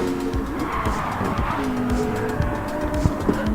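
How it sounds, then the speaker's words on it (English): Mercedes AMG GR3 race cars roar off the starting line in a racing video game, a dense wash of engine noise with rising and falling revs, tire squeals and skids layered throughout. "In this one I am racing a Mercedes AMG GR3, which is right there."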